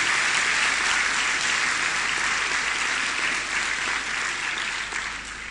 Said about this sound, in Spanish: Dale un aplauso fuerte a su Señor.